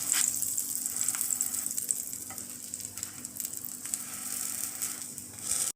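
A stuffed chicken and egg sandwich fries in butter in a pan until golden brown, giving a steady, close crackling sizzle that continues evenly throughout with no talking.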